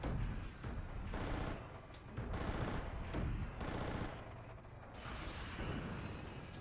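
Gunfire in the video game Steel Battalion rattles in repeated bursts, with heavy booming shots landing every second or so over a constant rumbling din.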